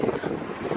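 Wind gusting across an open university campus, a steady broad rush with low buffeting rumble on the microphone, continuous and fairly loud for a brief moment with no voices.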